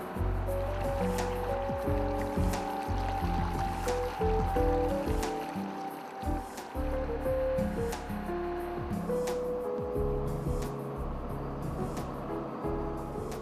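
A military amphibious vehicle with a Rolls-Royce B81 6.5-litre straight-eight petrol engine floats through water, its steady engine drone mixed with continuous splashing and churning water close by, with no talk.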